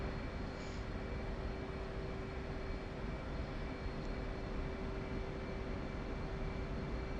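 Jet aircraft taxiing in a flight simulator game, a steady low engine drone with a constant whine held at an even level throughout, no voices.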